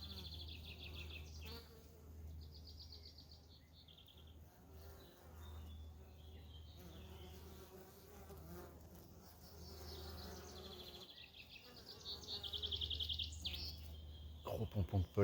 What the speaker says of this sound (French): Les abeilles qui arrivent, elles sont jaunes.